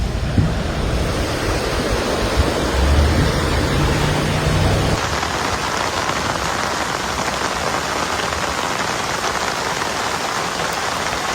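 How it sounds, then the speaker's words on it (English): Heavy rain during flooding in Richmond, Kentucky, a dense, continuous roar of downpour on surfaces with rushing, wind-like texture, loud and unbroken throughout. "Heavy rain transformed roads into fast-moving streams"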